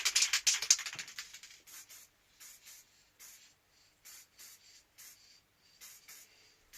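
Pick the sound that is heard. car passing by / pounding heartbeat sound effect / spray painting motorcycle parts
spray painting motorcycle parts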